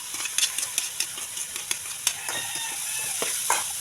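Hotdogs fry in margarine with browned garlic and onion, giving a steady crackling sizzle scattered with sharp pops and the scrape of stirring, close and continuous throughout.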